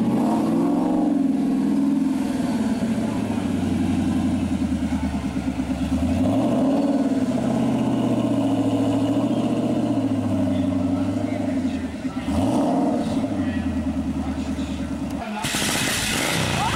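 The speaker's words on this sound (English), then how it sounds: "Here, Ford GT. Yeah, this guy's going to fire it up." A Ford GT at an outdoor car show fires up and is revved several times, its engine note climbing and falling in repeated surges, loud and close, while people talk nearby.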